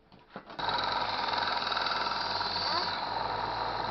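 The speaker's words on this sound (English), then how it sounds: "now we're just going to brush it up a bit and polish it a bit on the sander" A sander polishing a handmade Roman-style bracelet, starting up and then running as a steady, loud, high whine at close range for several seconds.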